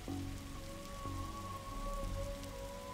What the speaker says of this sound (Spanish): Cuando deje de disfrutar de la lluvia, claro.